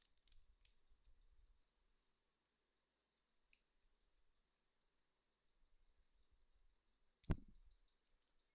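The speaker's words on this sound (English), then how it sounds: "I need to cut out half of the wire. So I'll cut out half the wire." Wire being snipped in half with cutters at a workbench: a single sharp, close snip stands out near the end after quiet handling rustles and faint clicks.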